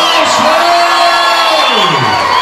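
A boxing crowd at a light heavyweight championship night cheers, whoops and yells loudly and steadily throughout, a dense roar with a sweeping tone rising and falling through it.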